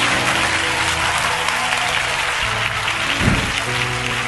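Church congregation clapping hands together in praise during a Tamil sermon, a steady dense wash of applause filling the whole span at even loudness.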